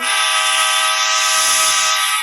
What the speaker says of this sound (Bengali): দেখছো হর্নে আবার কথা শোনা যাচ্ছে না ঠিকভাবে।